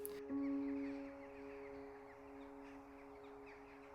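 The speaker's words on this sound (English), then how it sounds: "I couldn't help but notice the crows always constantly in the background here, but the noise was just picking up louder and louder" Crows caw in the background at a park with deer, one clear call near the start and fainter overlapping caws that carry on at a distance.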